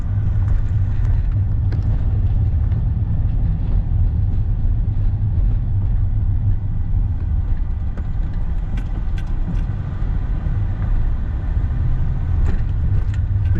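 A car cruises through a residential suburb of Dearborn, Michigan, with a steady low engine and road-noise rumble heard from inside, occasional small rattles over it.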